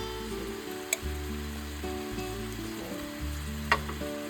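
Pumpkin sautéing with bagoong for ginisang kalabasa, a bright crackling sizzle in a pan with occasional stirring clinks and scrapes, close and continuous.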